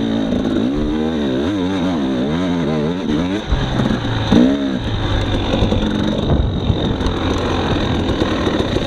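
A Husqvarna TX300 dirt bike engine revs hard through third gear on a trail, its loud two-stroke note rising and falling in repeated sweeps before settling into a steady drone.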